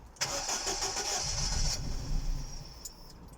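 A 2005 Ford Focus 1.4 petrol hatchback, freshly fitted with a new fuel pump, cranks briefly and catches, then settles into a steady, close idle rumble that fades toward the end.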